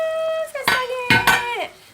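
A cooking pot lid is lifted off in a kitchen with a couple of clinking metal knocks and scrapes, close and fairly loud, while someone talks over it.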